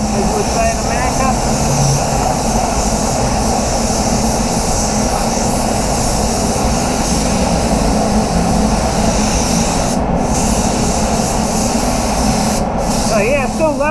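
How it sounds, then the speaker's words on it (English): A spray paint gun applies paint to a BMW 325i, a loud continuous hiss close by that holds steady with brief cut-outs near the end, while someone talks over it. "I'm using the same gun as what I used for the wet on wet primer"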